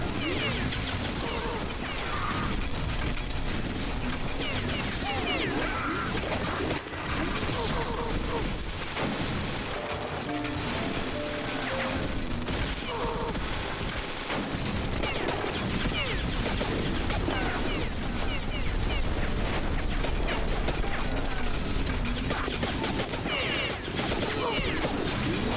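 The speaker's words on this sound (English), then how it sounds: "Shooting artillery at me." Artillery and other gunfire in a shoot-'em-up video game: a dense, continuous barrage of blasts, crashes and rapid bursts, loud and unbroken, with game music and effects layered in.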